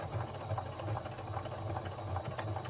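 Sewing machine running steadily while stitching a leather tote's side seam, a close, continuous mechanical whir with rapid rhythmic needle thumps and no pauses.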